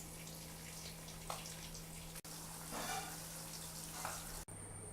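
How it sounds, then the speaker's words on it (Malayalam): Quail shallow frying in a pan, a steady broadband sizzle with light crackle running continuously at close range, briefly cut twice, with no talking. "ഇങ്ങനെ നമ്മൾ കാട ഷാലോ ഫ്രൈ ചെയ്തെടുക്കുവാണ്."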